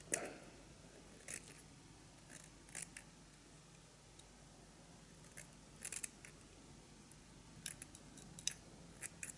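Scissors snip the stalks off CDC feathers held in a bull clip for fly tying, a handful of faint, sharp, isolated clicks spread across an otherwise quiet, hushed room.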